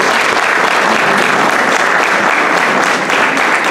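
Audience applause at a regional folk dance group (rancho) event in Maia, dense steady clapping filling the whole stretch at close, loud level with no talk over it.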